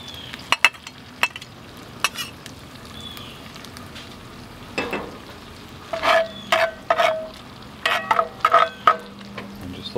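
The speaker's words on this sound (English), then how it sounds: "Let them cook up right with the sausage." Egg and cream mixture cooking beside sausage in a skillet for breakfast burritos, with a low steady sizzle, soft scraping stirs and clinks of a utensil against the pan growing busier toward the end.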